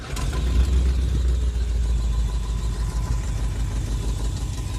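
A 1959 Ford Thunderbird engine turns over and settles into a steady, loud, close low rumble at idle, continuous throughout with no talking.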